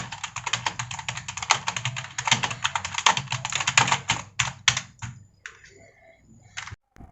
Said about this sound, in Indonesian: Suaranya mantap ya teman-teman. Ya namanya juga keyboard gaming ya.